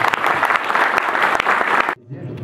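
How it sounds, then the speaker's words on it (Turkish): A crowd claps steadily for about two seconds, a dense burst of applause that cuts off abruptly, followed by a faint murmur. "alkış istiyorum"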